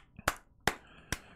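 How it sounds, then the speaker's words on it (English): Three sharp, separate claps, close and fairly loud with short gaps between them, from people reacting while watching Black Panther: Wakanda Forever. "Round of applause for that."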